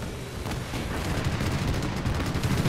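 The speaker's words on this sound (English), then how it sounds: "The strafing run is awesome." Aircraft strafing run in the Gates of Hell war game, a dense, continuous roar of rapid gunfire and impacts that stays loud and unbroken throughout.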